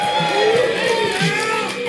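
A live crowd at a Clash Royale event in Helsinki cheers and shouts in a short, loud, brief burst of mixed voices.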